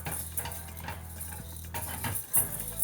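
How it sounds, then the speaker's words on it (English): A utensil scrapes and clinks in a pan while stirring grain coated in olive oil, a few quick irregular scrapes with a faint sizzle beneath, close and fairly quiet. "you just kind of want to just kind of stir it around for a little bit"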